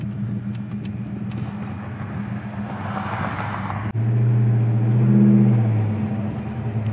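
A 1970 Pontiac GTO Judge V8 idling, a low steady rumble with a faint lumpy pulse, a sharp knock midway and a brief swell after it, heard alone.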